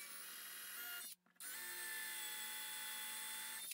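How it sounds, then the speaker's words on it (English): A power drill with painter's tape wrapped on the bit as a depth flag bores into wood on a bench, a loud, close, high-pitched whine that stops briefly and then starts again, with no voices. "And then drill down until the flag hits the wood."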